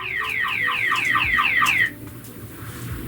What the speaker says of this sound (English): What the fuck caused the alarm to go off?